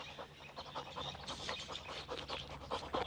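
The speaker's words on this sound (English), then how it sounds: "You like my dog? It's very big, yes?" A big dog pants in a movie scene, giving rapid, steady breaths close up that run through the whole moment. No voices are heard.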